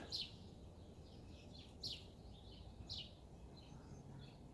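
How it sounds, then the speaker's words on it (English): A warbler sings faintly in the distance outdoors, three short high chirping phrases spaced about a second apart over a steady background hiss. "It sounded like a summer bird, a warbler coming in."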